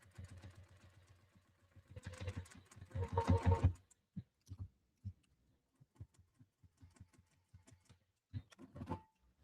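A sewing machine bastes fabric, with a quick burst of close rapid stitching, then a series of sparse mechanical clicks and taps as the work is adjusted.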